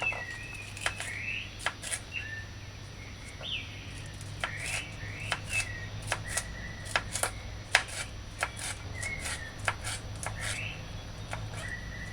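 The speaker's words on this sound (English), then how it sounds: "take the paprika and then slice it or chop it" A knife slices and chops paprika on a board in a kitchen, giving sharp, irregular clicks and taps spread across the stretch, quiet against a low steady hum, with no talking.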